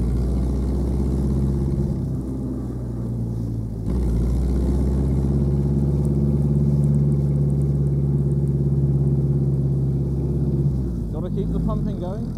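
A Ford Model T engine runs steadily nearby with a loud, low rumble that shifts slightly partway through, and people talk over it near the end.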